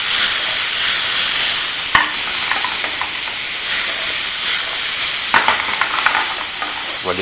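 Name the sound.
zucchini being stir-fried in a wok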